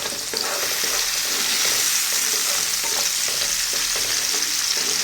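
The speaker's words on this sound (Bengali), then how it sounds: "নেড়ে চেড়ে কিছুক্ষণ ভেজে নিব।" Pumpkin pieces and bean seeds sizzle loudly in a pan while being stirred, a dense, continuous frying crackle with soft scraping strokes throughout.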